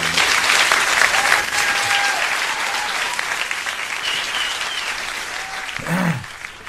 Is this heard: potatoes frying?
no